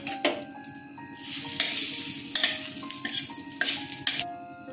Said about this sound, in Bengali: তেজপাতা, শুকনো লঙ্কা ফোড়নে দিয়ে দিলাম।